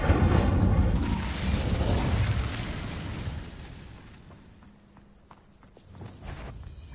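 An Incendio fire spell cast in Hogwarts Legacy, a loud rushing, crackling burst that dominates the opening seconds and then fades into quieter game sounds with a few sharp impacts.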